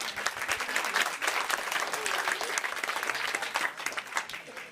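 An audience applauds steadily during a live Dutch evening show, the dense clapping staying fairly even and moderately loud throughout with no talk on top.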